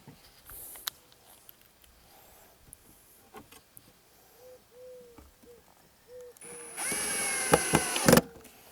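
Screws are driven into the wooden frame of a beehive kit. Quiet handling taps and knocks give way to a loud whirring burst from a power driver near the end.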